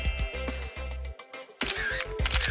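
A single camera shutter click as a selfie is taken in a cartoon room-makeover scene. It sits over continuous background music and is near and fairly clear, with no talking.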